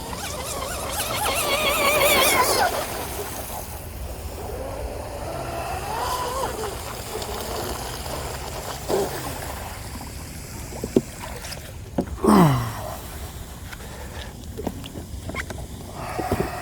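A Hobbystar 3660 fast electric RC boat with a Blackjack 24 runs on water, its motor whining and rising in pitch as it passes, moderately distant, under outdoor background noise and occasional splashes.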